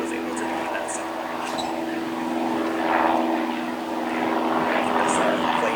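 A propeller airplane passes overhead at a wedding outdoors on a breezy day, its steady engine drone holding throughout under wind and faint ambient noise, swelling slightly in the middle.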